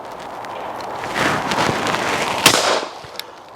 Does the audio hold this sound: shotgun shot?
yes